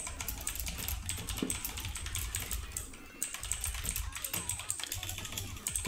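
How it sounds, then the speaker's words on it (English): Keys clatter rapidly on a loud mechanical keyboard during online game play, a dense, close run of sharp clicks with brief pauses. "Can you guys hear my keyboard? The keys are too loud. It's mechanical keyboard."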